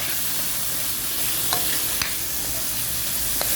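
Tomato, chili, garlic and onion sauté in a pan with a steady, even sizzle and occasional light clicks of stirring, moderately loud with no voices.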